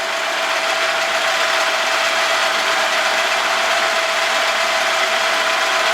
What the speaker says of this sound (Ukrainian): От воно фрезерує нашу доріжку доріжку, канавку